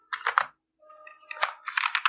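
Typing on a computer keyboard while entering HTML heading tags, with a burst of rapid key clicks, a short pause with faint tones, then another dense run of close, crisp keystrokes.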